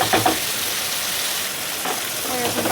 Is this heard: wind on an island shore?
no